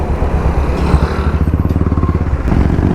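Royal Enfield Meteor 350 motorcycle fitted with an RRP aftermarket exhaust rumbles close by, its thumping exhaust pulses quickening as the throttle is blipped, then easing back to a lumpy idle, with no voices.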